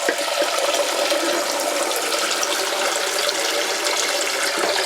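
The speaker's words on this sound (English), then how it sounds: "now drain the eggs and fill your pot with cold water" Cold tap water pours steadily into a kitchen pot of freshly boiled eggs after draining, a loud, continuous close-up rush and splash with no talking.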